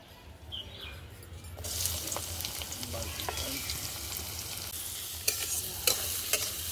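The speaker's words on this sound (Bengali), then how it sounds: "সবার আগে আমি দিয়ে দিচ্ছি পেস্টটাকে লাল লাল করে ভেজে নেব" Soybean spice paste hits hot oil with mustard seeds and cumin, and a quiet start bursts into a steady, close sizzle, with occasional stirring clicks and faint birdsong in the background.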